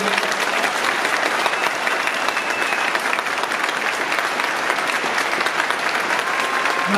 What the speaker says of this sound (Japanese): 今一度監督、選手、スタッフに大きな拍手をお願いしたいと思います